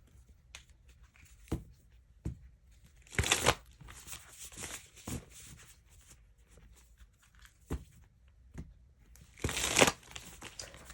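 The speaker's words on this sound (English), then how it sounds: "I'm going to do a quick shuffle." Tarot cards are shuffled in several short, crisp riffling bursts separated by pauses and soft handling noises.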